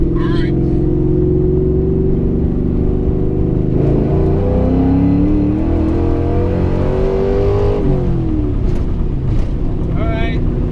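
A cammed 2001 Mustang GT with a 4.6 V8 is revved from 3,000 to 6,000 RPM, its loud, close, rumbling exhaust rising and falling through several pulls while people talk nearby.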